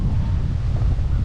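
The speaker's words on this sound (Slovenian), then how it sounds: "Je pa vetrovno na tej strani, tle ni zavetja." Wind blows on the exposed side of the island of Bequia, buffeting the microphone in a dense, continuous rumble.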